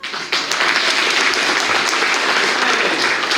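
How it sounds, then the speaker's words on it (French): A crowd claps loudly and continuously, a dense burst of applause that starts suddenly and keeps going without a break. "Sous vos applaudissements."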